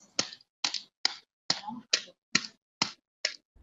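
Star gooseberries pounded in a repeated series of about nine sharp dull thuds, evenly spaced and close, with silence between hits and no talking.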